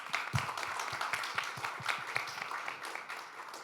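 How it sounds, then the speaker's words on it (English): A modest audience applauds NGO partners at a P&G Shiksha education anniversary event, fairly quiet scattered clapping with a few sharper individual claps, holding steady before easing slightly. "I think that deserves a round of applause"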